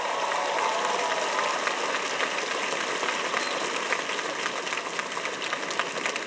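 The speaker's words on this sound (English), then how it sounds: "Can we get a round of applause for this incredible woman?" Dense, sustained applause from a large crowd fills a college commencement ceremony at Queensborough Community College in 2018, loud and continuous throughout with no let-up.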